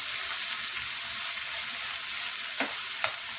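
Steady broadband sizzle of something frying in a pan, continuous and fairly close, with a couple of brief stirring scrapes near the end and no talking.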